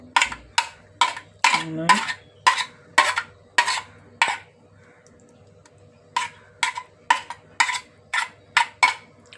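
Vegetables for a home-cooked bhaji being stirred and mixed in a pan: a rhythmic series of sharp metallic scrapes and clinks from a spoon, close and fairly loud, with a short pause midway before the stirring resumes.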